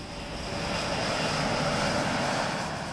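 Tornado jet aircraft engine at an RAF station, a loud, steady broadband roar that holds evenly throughout with no voices heard.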